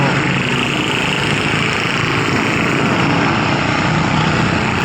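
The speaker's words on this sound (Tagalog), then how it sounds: "Big airplane." A big airplane engine roars in a dense, steady, broadband rush, loud and close with no break.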